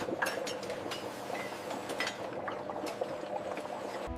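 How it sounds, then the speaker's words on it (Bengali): An automatic filling machine in a coconut oil factory pours oil into bottles, giving steady liquid pouring with frequent small glassy clinks and clatter, mid-level and continuous. "স্বয়ংক্রিয় মেশিনে নিখুঁত মাপে বোতলগুলোতে তেল ভরা হচ্ছে।"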